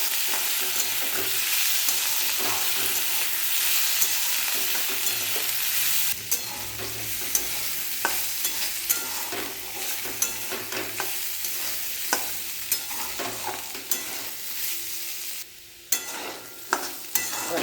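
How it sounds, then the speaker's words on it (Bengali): Food sizzles steadily in a pan while a utensil stirs it, with scraping clicks and knocks against the pan bottom growing more frequent midway; no one speaks. "আবার এটাকে নাড়াচাড়া করে"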